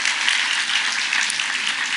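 A church congregation claps together in a steady, even burst of applause, moderately loud and uninterrupted by speech.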